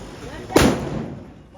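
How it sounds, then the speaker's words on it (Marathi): A single sharp firecracker bang goes off fairly close, its boom fading quickly into a brief rumbling tail. "तू काय इथं फटाके वाजवायला आलाय का?"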